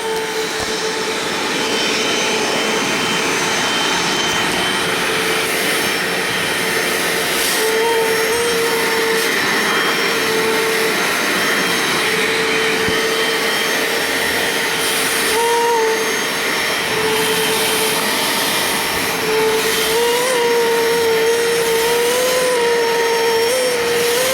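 A Bissell Little Green ProHeat carpet cleaner running, with a loud, steady motor whine and suction roar that holds constant and nearby throughout, its pitch wavering slightly.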